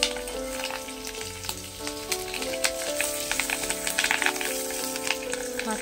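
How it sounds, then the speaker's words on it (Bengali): Whole fish roe frying unbroken in a pan gives a constant crackling sizzle with small pops, heard under steady background music. "মাছের ডিমটাকে না ভেঙে এইভাবেই ভাজছি"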